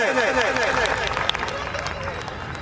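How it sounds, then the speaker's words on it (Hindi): Crowd applause greets Manoj Tiwari at a Koli community gathering, a loud steady wash of clapping alongside a voice speaking over a PA at first, fading slightly toward the end. "one and only Manoj Tiwari ji, जोरदार तालियों के साथ स्वागत किया जाए"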